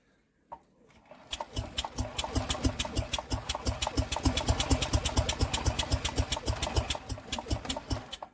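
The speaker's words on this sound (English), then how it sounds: "let's just give this a little spin now and just see if it has still got a spark" Old Stuart Turner boat engine being spun over by hand, a quick run of rhythmic, loud chuffing beats that starts abruptly, holds a fairly even pace for several seconds, then stops.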